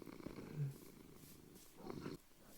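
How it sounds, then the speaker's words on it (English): A cat purrs while sleeping in a bed beside a villager in a video game, a soft, steady, close purr running through the whole moment with no talk. "A cat sleeping in the bed with a villager."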